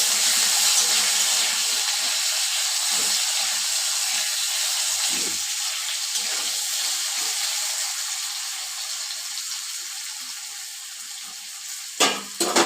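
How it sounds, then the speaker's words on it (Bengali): Potatoes frying in oil with turmeric and salt give a steady, close sizzle that fades slightly over time, with a sharp clatter of utensils near the end and no talking. "সামান্য হলুদ গুঁড়ো, সামান্য লবণ দিয়ে পটেটোটাকে ফ্রাই করে নেব।"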